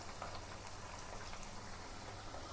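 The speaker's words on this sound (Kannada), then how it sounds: "ಇವಾಗ ಇದನ್ನು ಫ್ರೈ ಮಾಡಿ ತೋರಿಸ್ತೀನಿ ರೀ ನಾನು ನಿಮಗೆ" Chicken 65 frying in oil, a steady dense crackling sizzle at an even, moderate level throughout with no voices.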